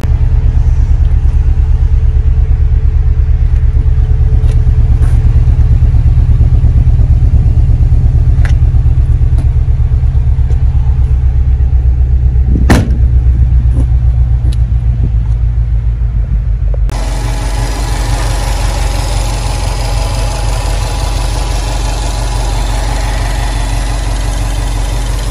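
A 2021 Subaru WRX STI with a six-speed manual idles close by in a deep, steady low rumble that continues throughout, with faint clicks over it and a brighter, hissier layer joining partway through.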